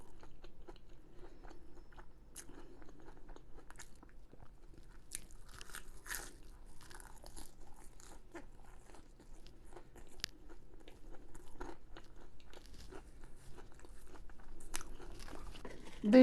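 Sainsbury's own poppadoms are eaten up close with sharp, brittle crunches and steady chewing repeating for several seconds, with no talking.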